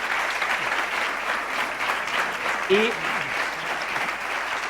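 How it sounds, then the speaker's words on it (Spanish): Audience at an agricultural conference on climate challenges in European farming gives the panel a strong round of applause, dense, steady clapping from many hands throughout, with a brief voice near the middle. "Un fuerte aplauso para ellos, por favor."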